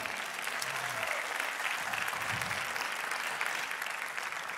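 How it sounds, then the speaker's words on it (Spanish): A church congregation applauds steadily, a dense wash of clapping that holds at an even level throughout with no voices standing out. "¿Cuánto le dan un aplauso al Señor por la palabra?"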